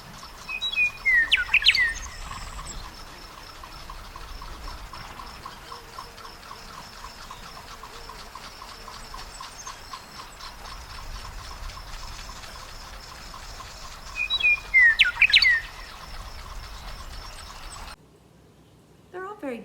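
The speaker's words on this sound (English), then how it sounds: "Here's the meadowlark's call." A meadowlark's call rings out in two bright, fluttering bursts of song separated by a long gap, with a steady high insect-like trill and faint trickling water underneath; no talking.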